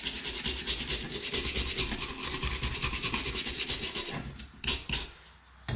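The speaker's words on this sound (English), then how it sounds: "I'm just gonna take a wire brush like this" A wire brush scrubs steadily with rapid back-and-forth strokes against the rusty gas burner of a home boiler, loud and close, slowing and thinning into a few separate scrapes near the end.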